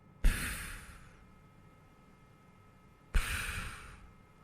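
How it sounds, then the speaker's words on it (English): Two slow, breathy snores from a sleeper, each a single airy rush of breath with a long gap between them, played alone without any talk. "What's this snore?"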